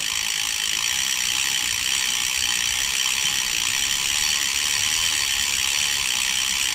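A brush is pressed against the chain of a gravel bicycle while the crank is turned by hand, producing a loud, continuous whirring ratchet and scrubbing buzz at close range.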